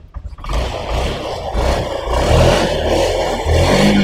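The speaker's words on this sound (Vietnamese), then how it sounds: "mở khóa, nổ máy nè." A motorcycle engine turns over and catches after a brief start, then settles into a steady, fairly loud running drone with a slight rise in revs, heard close up in a repair shop.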